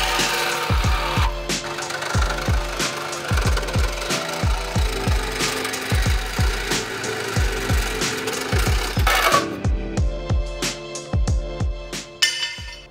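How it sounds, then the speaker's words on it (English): Cutting off the control arm pockets on a Jeep Grand Cherokee WJ with a Sawzall and cutoff wheel: loud, rhythmic strokes of metal cutting about twice a second, with harsher grinding near the end. "Sawzall cutoff wheel is not exactly the best or most fun way to do it"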